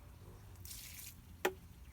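Water being drawn off the top of settled clay slurry: a faint, soft hiss of trickling water, then a single close, distinct drip-like plop near the end, in an otherwise quiet room.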